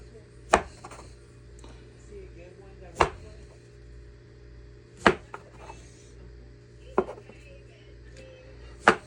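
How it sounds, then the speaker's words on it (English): A knife chops food on a wooden board in five sharp, evenly spaced strikes about two seconds apart. Each is crisp and close over a faint steady hum. "now what we're gonna do is we're gonna just chop them up now"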